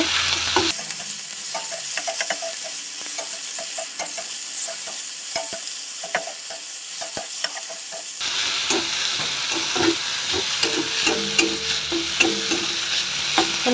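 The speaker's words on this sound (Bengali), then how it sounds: "ভালো করে মশলাটা কষিয়ে নিলাম" Spice paste and fried onions cooked down in a kadai for a jackfruit and prawn curry, with a continuous close sizzle and scraping stirs that grow louder and busier partway through, and no talking.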